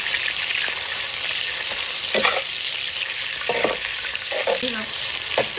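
Shredded lean pork fries in melted lard with scallion and ginger, a loud continuous close sizzle broken by several scraping stirs of a spatula against the wok.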